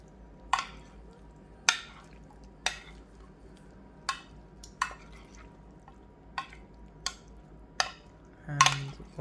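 A utensil mixes cooked potatoes in a pan or bowl, giving sharp, spaced clinks and scrapes about once a second, ending in a louder clatter of cookware.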